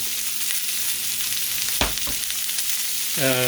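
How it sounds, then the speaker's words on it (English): Pork chops fry in a cast iron pan with a constant sizzle, a couple of sharper clatters from a utensil partway through and a brief tonal squeak near the end. "We were cooking pork chops on the cast iron, weren't we?"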